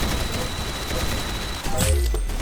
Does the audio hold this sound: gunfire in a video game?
yes